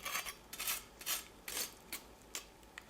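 Crunchy crackling on roasted pork, smoked for two and a half hours to 67 degrees, gives a series of close, sharp crisp crackles in irregular bursts with short gaps, quiet overall.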